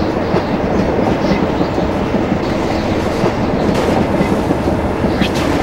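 A train rolls along in The Polar Express GameCube game, a loud continuous rumble with rhythmic clickety-clack of wheels over rail joints and occasional metallic squeals, steady throughout with no talking.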